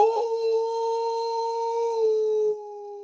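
A person imitates a wolf howling at the moon outdoors, one long sustained wavering howl that drops slightly in pitch near the end, loud and close.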